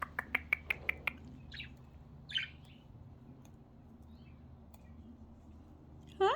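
Pet budgies in large indoor cages chirp in a rapid string of sharp, close tweets, then give scattered softer calls and a brief squawky flutter before a louder chirp bursts out at the end.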